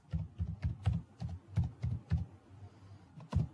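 Java code is typed on a computer keyboard in a quick run of distinct, close key clicks with a brief pause. One final keystroke follows the pause.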